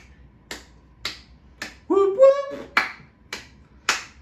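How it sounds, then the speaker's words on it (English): Sharp hand claps used as a rhythmic signal land at a steady, even pace, about seven in all, with a voice whooping in a short burst between them. The claps are close, crisp and fairly loud. "clap 4 times quickly and bust the signal"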